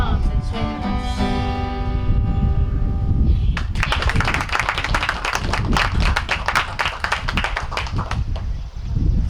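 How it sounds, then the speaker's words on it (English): Live outdoor performance ends with a sung final note and music, then a crowd breaks into lively applause for the Stevens family, dense close clapping with scattered individual claps and cheers continuing for several seconds. "Another round of applause, all for the Stevens family."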